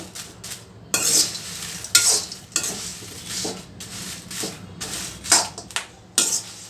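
Red chillies dry roasted in a pan with little oil for sambar powder, stirred in bursts: rattling, scraping strokes and a light crackle, loud and close with brief pauses between stirs.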